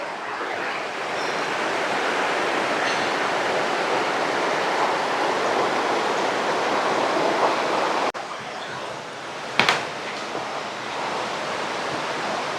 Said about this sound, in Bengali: এই ওপর থেকে পড়ছে ঝর্ণাগুলো যার ফলে এই দেবকুণ্ড সৃষ্টি হয়েছে